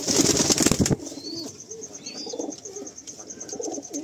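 Wings flap loudly for a moment, then molting female pigeons coo softly nearby while faint chirps sound in the background.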